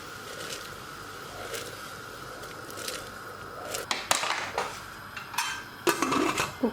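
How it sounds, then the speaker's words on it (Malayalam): Rice poured into boiling water with tomato in a pressure cooker for beef mandi, heard as a steady simmering hiss and then a burst of clattering, rattling grains and metallic pot sounds toward the end. "വെള്ളം തിളച്ച് വരുമ്പോൾ നമുക്കിതിലേക്ക് അരി ഇട്ട് കൊടുക്കാം."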